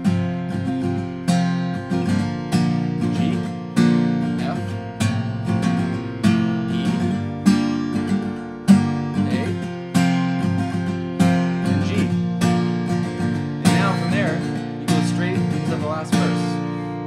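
Acoustic guitar plays the bridge section of a song, steady strummed chords ringing out in an even rhythm, close and fairly loud, with no voice over it.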